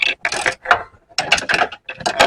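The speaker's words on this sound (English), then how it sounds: "Trying to back that bolt out by hand as far as we can" Bolt being backed out by hand with a ratchet during a long-tube header install on a fourth-gen F-body car, quick bursts of clicking ratchet strokes separated by short pauses, close and alone.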